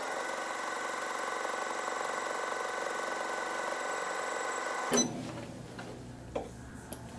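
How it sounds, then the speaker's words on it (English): An embroidery sewing machine runs a tack-down stitch in steady, fast mechanical ticking that holds for about five seconds, then stops abruptly, leaving a few faint clicks and light handling noises. "you can leave the same neutral thread in there and sew the tack down stitch"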